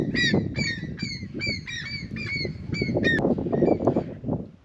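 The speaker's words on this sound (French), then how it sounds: "il y a des mouettes" Seagulls calling in a national park in Bolivia, a string of loud repeated squawking cries in quick succession over a rough background rumble, fading out near the end.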